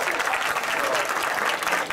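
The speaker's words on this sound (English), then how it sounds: "put your hands together for Ryan and Simpson." An audience at the Wargrave Food Festival 2015 applauds after a chef's cooking demonstration: dense, sustained clapping from a crowd, steady and fairly loud throughout.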